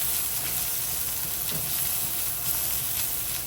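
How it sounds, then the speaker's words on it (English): Thai red curry paste frying in a pan, a steady, even hiss and sizzle throughout with faint stirring scrapes, moderately close and free of talk. "in goes our Thai red curry paste. I'm gonna start fry this up."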